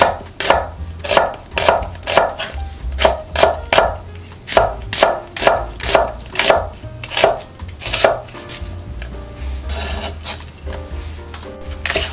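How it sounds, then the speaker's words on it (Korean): Rapid, regular knife strokes cut an onion into thick strips on a wooden board, crisp close thuds that give way to softer scraping and rustling near the end. "양파도 굵직하게 채 썰어 주겠어요."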